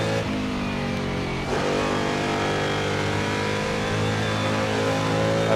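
Porsche race car in the Assetto Corsa racing sim, historic sportscar event at Riverside: a steady, loud engine drone holds a sustained pitch, with a brief dip and surge near the start and no talk over it.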